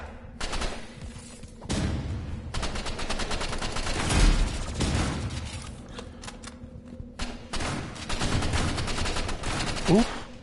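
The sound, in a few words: gunfire in Roblox video game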